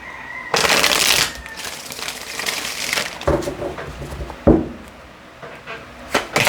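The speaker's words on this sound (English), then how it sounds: "One last shuffle, please." Quick riffling and shuffling of tarot cards in several bursts, close and crisp, with brief pauses and taps between them.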